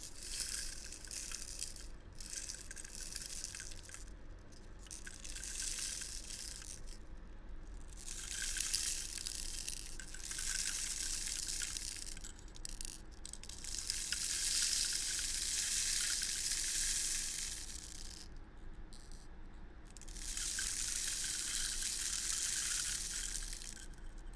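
An object worked by hand in an ASMR session to mimic rain gives a steady hissing, crackling patter, close and soft, swelling and dropping in bursts with brief gaps, alone with no talking.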